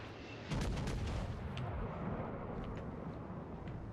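Warship side cannons in the World of Warships video game, a sudden loud boom followed by a long rumbling roar and a few fainter distant report thumps.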